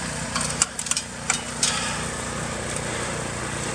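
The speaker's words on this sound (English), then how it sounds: "the snow blower, trying to clean it up a bit" A snow blower engine runs steadily in a heavy snowstorm in Maine, a continuous mid-distance motor drone with a few brief clanks and knocks over it.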